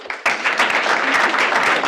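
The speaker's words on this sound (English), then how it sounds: "So give yourselves a round of applause." A small group in an office team meeting breaks into clapping for new agents, a sudden burst of close, fairly loud applause that holds steady for under two seconds.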